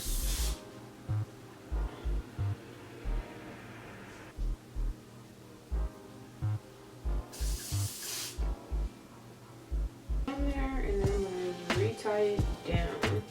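A hair product for wig lace is sprayed in one clear, close hiss lasting about a second, set against steady background music with a regular thumping beat.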